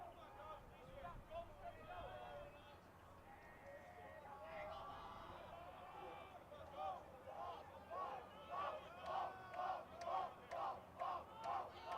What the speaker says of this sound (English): Cheering and chanting from the Ravens dugout.